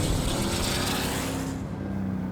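A 600-horsepower turbocharged BMW E36 drift car accelerating hard with a loud, broad engine roar. Partway through, the roar drops to a lower, steadier drone.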